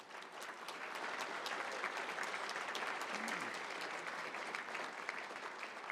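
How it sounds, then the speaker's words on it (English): A crowd at a Detroit Red Wings event gives a final round of applause, steady mid-distance clapping sustained for several seconds with a brief voice or whistle in the middle. "Final round of applause for these guys"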